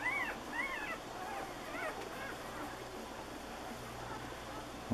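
Three-day-old chocolate-coloured newborn puppies whimper in a string of thin, high, wavering cries through the first two seconds, then quieter rustling and soft background noise follow, with no talk.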